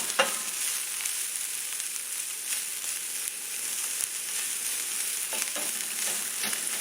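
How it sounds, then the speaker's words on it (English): Sausage frying in a pan for a Mexican eggs and sausage brunch, giving a steady, close crackling sizzle with little pops throughout, no voices over it. "I just want my sausage cooked all the way through"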